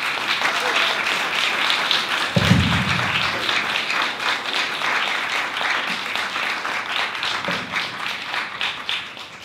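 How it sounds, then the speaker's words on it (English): An audience applauds after a speaker's presentation at a business event, steady crowded clapping that carries through the whole stretch with a brief low thump early on. "please a round of applause to Bruno, please."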